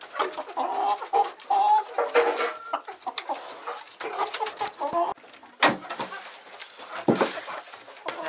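Several hungry hens cluck and chatter close by at feeding time in irregular bursts, with a few quick wingbeats and scuffles, and no one speaking.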